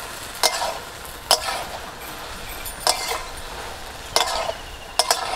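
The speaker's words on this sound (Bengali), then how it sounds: "এবার কুলগুলোকে কিছুক্ষণ নাড়াচাড়া করে একটু ভেজে নেব।" Jujube berries (kul) for a sweet-sour-spicy pickle fry and get stirred in a pan, with a soft sizzle under sharp scraping clinks of the spoon recurring about every second.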